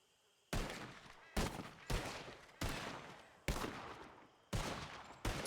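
Six evenly spaced, loud gunshots in a video game, each a sharp crack followed by a decaying tail, fired at trees in a steady alternating rhythm with no talk.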